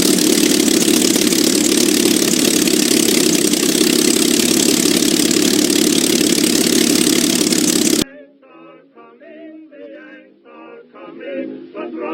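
Packard V-12 PT boat engine, a 45-degree V-12, running with a loud, steady, dense roar for about eight seconds before cutting off to quieter sounds.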